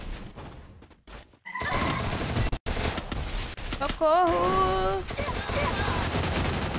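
Rapid bursts of video-game gunfire crackle through a busy, dense mix, with a player shouting in Portuguese over the shots and a wavering whistle-like effect mid-way.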